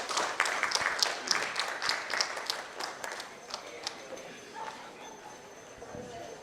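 Scattered clapping from an audience at a learning and development summit and awards event, brisk at first and then thinning out, with light chatter in the room.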